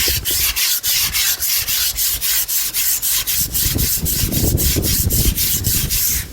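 Brake parts are scrubbed hard to remove rust, making loud, rapid rasping strokes up close in a steady rhythm throughout, with no talking.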